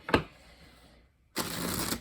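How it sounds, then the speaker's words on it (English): Disney Villains tarot deck being shuffled by hand, a short riffle burst at the start, a pause, then a steady dense run of card flutter to the end, close and alone. "I am just doing those few additional shuffles for good measure"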